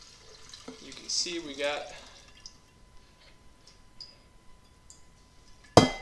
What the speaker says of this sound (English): We did do a pre-wash in this tank already. So we're just going to drain this out.